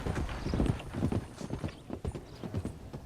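Horse hooves clip-clopping in the Red Dead Redemption 2 video game, a steady rhythmic trot of soft thuds, near and moderately quiet, with no talk.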